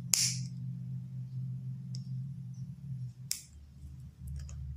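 A match strikes with a sharp crackling flare at the start to light a candle standing on a plate, followed by a few faint clicks and soft handling sounds close by in a quiet room.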